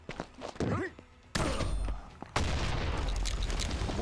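Heavy booming shots from an M1014 shotgun in a video game, a few loud blasts separated by short gaps, with game ambience behind.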